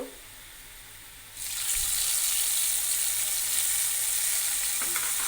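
Spices going into hot oil with fried onions in a pan for an egg curry with potato and pointed gourd, a loud steady sizzle that jumps up sharply after a quieter start and keeps hissing without pause.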